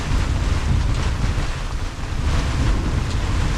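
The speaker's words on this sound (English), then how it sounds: "It's still windy." Strong wind at sea around a small Haines Hunter boat riding at anchor in choppy water, a loud continuous roar of gusting wind buffeting the microphone with washing waves beneath, no talking.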